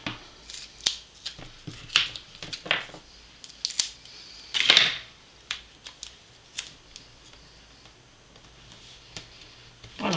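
Scissors snip a paper craft piece in two, producing sharp, crisp clicks and short cutting strokes at irregular intervals, up close against a quiet room.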